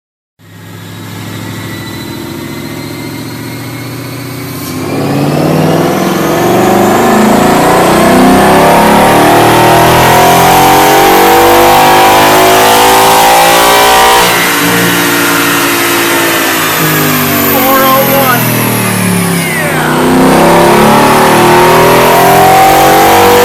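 A 2013 Ford Mustang GT V8 on a chassis dyno climbs from idle into a long, loud full-throttle pull, the engine note rising steadily through the revs before a shift and a second climb, with no talking.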